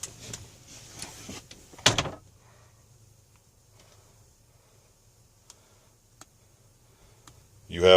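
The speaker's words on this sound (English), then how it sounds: "This door opens up, gives you a way to have privacy from the front of the unit." In an older Roadtrek Class B campervan, an interior privacy door opens with a few clicks and a clunk early on, followed by quiet ticking and a final louder rattle at the end.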